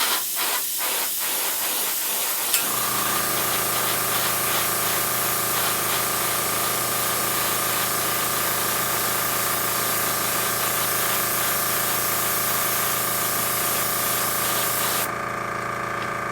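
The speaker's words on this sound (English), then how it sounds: "when you're airbrushing, start your airflow off the project and then bring it onto the project" Airbrush spraying paint onto miniature Eldar defence wall models, a steady close hiss of compressed air that starts abruptly after a couple of seconds and continues evenly, with a constant compressor drone underneath.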